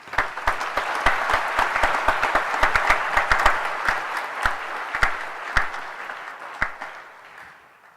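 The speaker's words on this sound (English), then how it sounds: "let us permit the quartet and the ensemble and their leaders, Mark Lynch and Pamela Kiernan, to leave with a warm round of applause" Audience at a university arts and social sciences graduation ceremony applauds as a quartet and ensemble leave, a sustained wash of clapping with distinct individual claps standing out, gradually thinning and fading over the last seconds.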